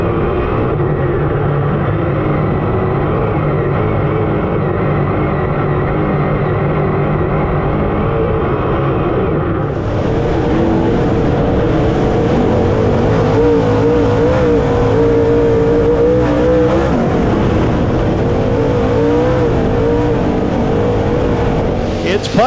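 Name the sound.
race cars racing around dirt track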